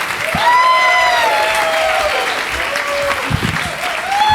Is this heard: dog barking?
no